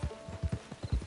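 Horse hooves clip-clopping in Red Dead Redemption 2, a quick, evenly spaced series of about eight soft thuds at a walking pace, fairly quiet and heard alone without voices.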